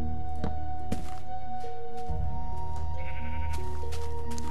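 Sheep bleating in Minecraft, several loud, close bleats overlapping across a few seconds, mixed with soft thunking block sounds, no talk.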